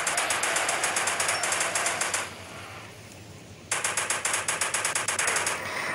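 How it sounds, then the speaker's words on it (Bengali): Rapid machine gun bursts firing at dinosaurs in the video game Indian Bike Driving 3D, two long rattling volleys split by a short pause filled with a low rumble. "তো এই বিশাল ডাইনোসরগুলোকে আগে শেষ করে দেই মেশিন গানের মাধ্যমে"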